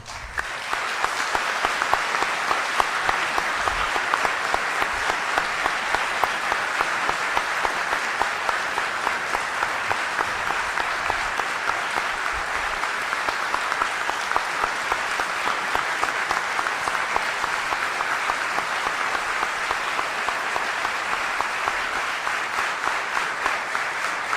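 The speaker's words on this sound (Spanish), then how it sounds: "para los que pido un aplauso" A hall audience at a political presentation applauds war veterans with long, steady, dense clapping that holds evenly for over twenty seconds. No speech rises above it.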